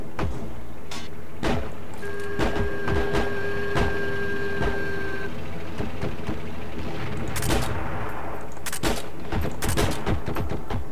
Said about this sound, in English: Who is it that's shooting at me?